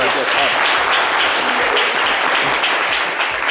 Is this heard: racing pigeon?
no